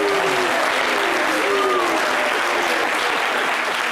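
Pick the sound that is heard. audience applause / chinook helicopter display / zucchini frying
audience applause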